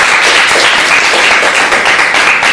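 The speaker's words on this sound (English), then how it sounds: "please give them your undivided attention and a round of applause to greet" An audience claps steadily and loudly throughout, greeting Vietnam veterans arriving to speak to a history class.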